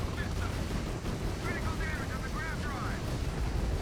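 Vertical launch missiles firing in a video game, a dense, continuous roar of launches and blasts filling the whole stretch at high loudness, with faint whistling tones riding over it.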